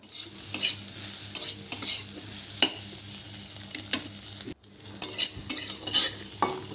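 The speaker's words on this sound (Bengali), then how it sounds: "এবার সয়াবিনগুলোকে একটু আমি ভেজে নিয়ে তুলে নেব" Soybean chunks sizzle in hot oil in a pan, broken by scraping stirs and clinks of a utensil, close by with no talking.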